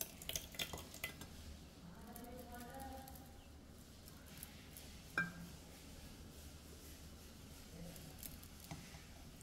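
Abhishek offering ingredients, ghee and sugar among them, are stirred together in a vessel, giving faint, close clinks and soft scraping taps with brief quiet murmurs of speech between them.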